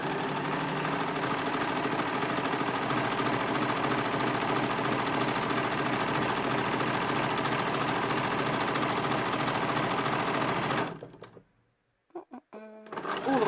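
A sewing machine stitches a hood seam in one long, steady, rapid mechanical whir for about eleven seconds, then stops abruptly into near silence with a few small clicks.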